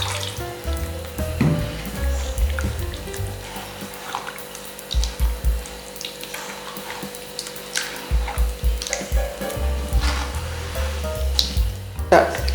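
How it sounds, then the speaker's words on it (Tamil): Liquid pours into ragi koozh, a finger millet porridge, with rippling, splashing water sounds in bursts alongside a steady background hum and someone talking. "இப்போ பாருங்கள், இன்னும் கொஞ்சம் ஊற்றிக்கிறேன்."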